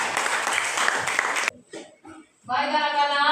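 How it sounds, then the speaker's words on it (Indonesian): A classroom of students claps together after a group presentation, a burst of dense applause, then a brief pause with faint noises before the clapping swells again near the end. "mari kita beri tepuk tangan kepada"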